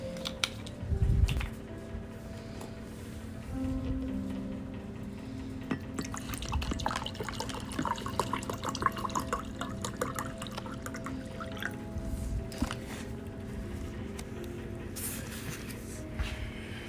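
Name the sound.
water warmed and poured for instant tea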